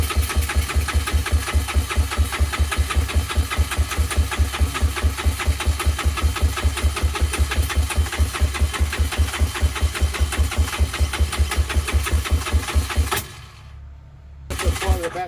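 An engine on a dyno cranking without firing, its starter churning in a steady fast rhythmic chug for about thirteen seconds, then stopping briefly before resuming, loud and close.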